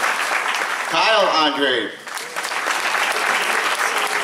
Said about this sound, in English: clap louder for me